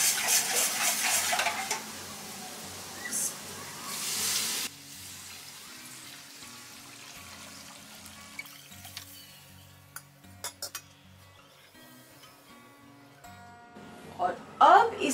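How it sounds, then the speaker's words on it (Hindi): A curd mixture for kadhi being poured into a pot and stirred, with pot and utensil clatter, some sizzling, and sharp clinks of a spoon against metal toward the end; a voice talks over the start. "और अब हम ये जो अपना दही का जो पूरा हमने मिक्सचर बनाया हुआ है वो इसमें डाल देंगे।"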